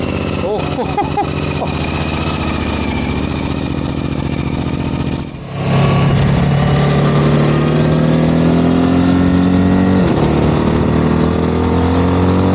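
Suzuki V-Strom motorcycle fitted with a GRMoto aftermarket exhaust and dB killer, engine idling then revving up loudly and steadily close by, with a short dip before the revs rise and hold.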